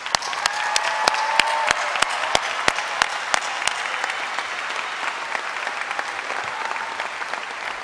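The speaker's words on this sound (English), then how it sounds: "Everyone, please join me in giving our alumni one more round of applause." Sustained audience applause for new alumni at a spring commencement ceremony, a broad wash of many hands clapping steadily with a few sharp louder claps standing out near the front.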